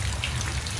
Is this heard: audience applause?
no